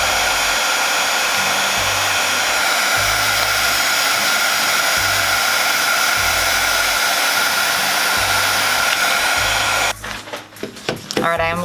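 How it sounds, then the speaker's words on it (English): A heat gun blows steadily as it pushes swirls through poured resin on a wooden board, a loud continuous hot-air whoosh that cuts off near the end, leaving brief handling noises. "this is my heat gun right here. And I'm gonna use it to kind of blow these swirls a little bit"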